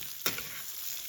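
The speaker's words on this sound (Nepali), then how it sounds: "ग्यासको फ्लेम मिडियममा राखेर अब यसलाई चलाउँदै भुट्नु पर्ने हुन्छ।" Two cups of rice are stirred and fried in ghee in a pan over a medium gas flame, giving a soft sizzle with one brief scraping stir near the start and no talking.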